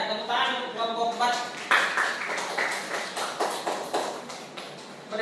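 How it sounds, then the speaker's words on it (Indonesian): Students in a classroom clap for group 4, a loose patter of hands with uneven rhythm that builds and fades over a few seconds, with voices mixed in. "tepuk tangan untuk kelompok 4"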